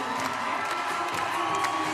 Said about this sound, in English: They have the crowd on their feet again.